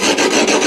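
A screwdriver rasps briefly and harshly along the edge of skateboard grip tape, a close, gritty scraping rub with a few quick strokes.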